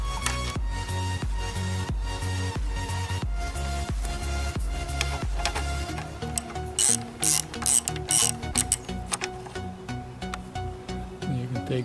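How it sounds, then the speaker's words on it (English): A ratchet undoes the brake caliper bolts on a Honda CBR600F motorcycle front wheel: quick rhythmic clicking strokes close up, in repeated bursts, growing sharper and more spaced toward the end, with no talk. "Removing the two bolts from the caliper."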